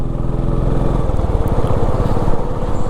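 Motorcycles ride along NH16, the old NH6 highway near Uluberia, a loud, close, continuous engine drone with a rapid throbbing that shifts pitch as a machine passes.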